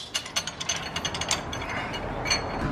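Pilot bearing puller being worked to extract the pilot bearing from an SR20 engine, giving a steady run of rapid metallic ratchet clicks, close and fairly loud, with no talking.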